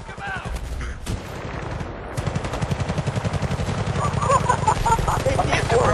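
Video game battle gunfire, sustained loud automatic fire with distinct rapid shot pulses that grow denser toward the end, with voices talking intermittently through it.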